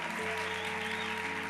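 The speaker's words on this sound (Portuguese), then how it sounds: "Vamos dar uma salva de palmas, gente, por favor." A congregation at an evangelical church service applauds faintly, a brief continuous wash of clapping heard beneath a steady sustained tone, likely from a keyboard or organ.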